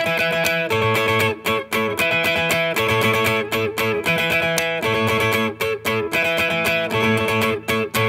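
Bright electric guitar, a Gibson Les Paul, strums a two-chord 80s pop-rock riff in a quick, choppy rhythm with high voicings, playing alone and steady throughout.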